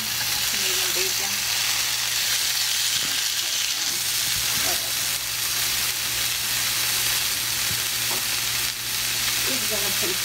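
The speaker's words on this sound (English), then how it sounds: "put a little bit more olive oil. Fry up my ham, medium bacon." Ham and medium bacon frying in olive oil, a steady dense sizzle with a low constant hum underneath and occasional stirring scrapes, with some faint talk in the background.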